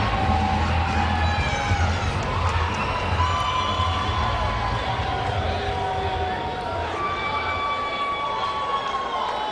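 A dense, steady roar of an arena crowd cheering and whooping as an MMA lightweight champion walks into the decagon cage at a World Series of Fighting event, loud and continuous throughout.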